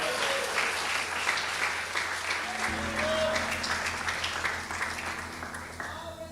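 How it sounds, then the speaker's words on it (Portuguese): Church congregation clapping loudly in praise at a worship service, a full sustained burst of many hands, with a low steady organ or keyboard tone entering partway through beneath the applause. "Dá mais um aplauso bem forte para Jesus."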